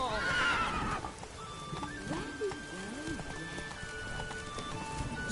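A horse in The Witcher 3 neighs loudly at the start, then its hooves clip-clop steadily at a gallop, with other in-game sounds running underneath.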